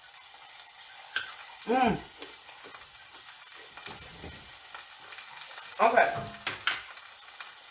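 Cooking oil sizzles and hisses steadily in a pan, a constant low crackle with a couple of short murmured vocal sounds over it.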